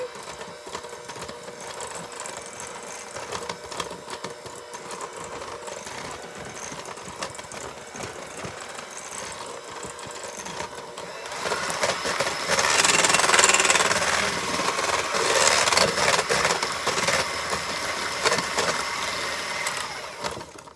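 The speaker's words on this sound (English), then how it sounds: "turn on the mixer slowly so it doesn't fly around the room" An electric mixer whirs steadily as it blends flour into clafoutis batter, a continuous buzzing drone that grows louder and harsher about halfway through, heard close and without speech.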